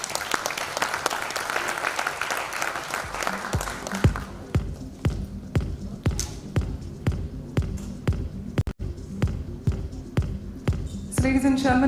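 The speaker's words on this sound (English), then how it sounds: "If you can just join me for a big round of applause for Amitabh Kanji." Ceremony audience applauds a guest of honour: dense, full applause for about four seconds, then settling into slower, heavy, evenly spaced claps that continue to the end. A little background voice is mixed in.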